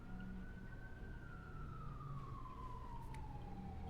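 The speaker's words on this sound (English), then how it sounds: "I heard a siren." A siren wails at a distance, one long falling tone drifting slowly downward over a steady low rumble, faint and continuous throughout.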